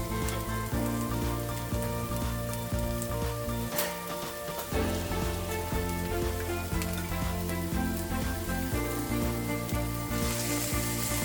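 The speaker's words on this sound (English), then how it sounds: "and I'm going to add 1 small onion, 1 small diced onion, and then I'm going to add 1 tablespoon of garlic paste" Diced onion and garlic paste hit hot oil in a pan, giving a steady close sizzle and crackle with a brief dip partway through, then frying on evenly.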